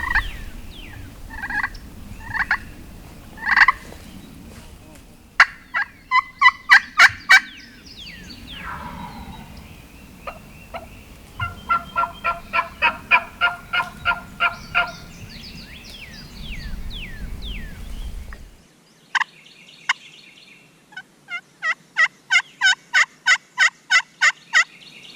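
Wild turkey gobbling from a wooded ridge on public land, several loud rattling gobbles with other birdsong around, over a steady low rumble of running water or wind.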